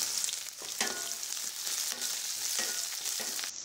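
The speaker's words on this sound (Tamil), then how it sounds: "இதை சேர்த்து நல்லா வதக்கி விட்டுக்கலாம்." Onion, garlic and curry leaves sautéing in a pan for a bitter gourd dish, giving a steady close sizzle with stirring scrapes throughout, no voices.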